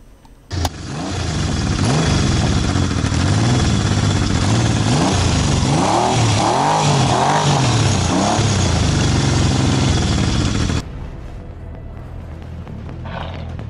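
A custom motorcycle engine starts abruptly, then revs up and down in repeated swells at close range, loud and rough, before cutting back to a lower idle near the end.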